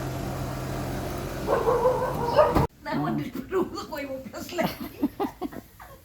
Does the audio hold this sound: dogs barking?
yes